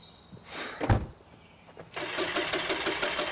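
A minivan engine in the video game The Quarry fails to start: a short grinding crank and a clunk, then a longer stuttering whir that sputters without catching, close by, with no voices.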